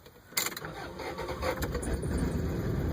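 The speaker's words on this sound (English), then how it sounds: "I'm going to start my car because I'm about to end this." A car engine cranks and catches with a sharp burst, then settles into a steady, close idle that grows a little louder toward the end.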